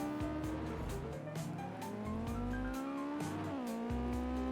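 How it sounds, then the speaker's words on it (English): A race car in a racing video game revs and crashes at the start of a race at Oulton Park, a loud, close engine whine climbing and dropping in pitch, mixed with tire squeal and skidding as it flips. "We crash. We flip."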